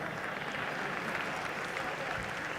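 Audience applause at a Hindi kavi sammelan poetry recital in Kolkata, a dense, steady wash of clapping from a sizeable crowd, continuous and fairly loud throughout.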